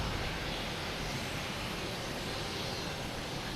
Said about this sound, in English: Next arrives a JetBlue coming in from Santiago de los Caballos.